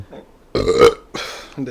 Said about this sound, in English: I thought I was gonna burp.